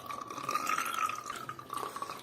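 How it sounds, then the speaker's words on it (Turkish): Muddy water runs and splashes steadily from a household gas-heating radiator as it is drained during cleaning, a continuous liquid pour up close with no talk. "Evet çamurlanmış su geliyor."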